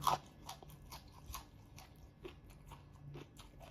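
Crunchy fried golden apple snail head salad with fresh vegetables being bitten and chewed up close, a series of crisp, irregular crunches spread across a few seconds with quiet pauses between bites.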